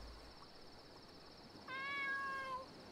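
A single drawn-out cat meow in a video game, clear and close, rising out of a quiet background hum for about a second with no talk over it.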